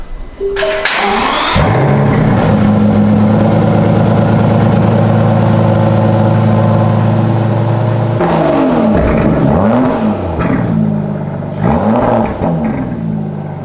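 An Aston Martin DBS engine with quad exhaust pipes starts and settles into a loud idle, then revs sharply several times close by, each blip rising and falling, with no voices.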